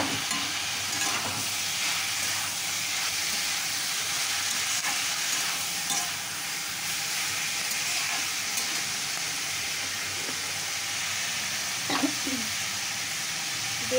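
Tomatoes added to a pan of chickpeas and mutton fry with a steady, moderate sizzle, punctuated by a few scraping stirs and light clinks of a spoon against the pan.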